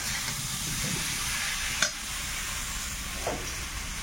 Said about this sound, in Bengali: ওলটা একটু লাল লাল করে ভেজে দিচ্ছি এদিকে